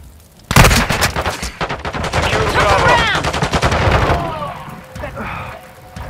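Gunfire rattles in a Call of Duty: Modern Warfare II multiplayer Domination match: an abrupt loud burst of rapid automatic fire, then several seconds of sustained shooting with shouted voices mixed in, fading to quieter distant sounds.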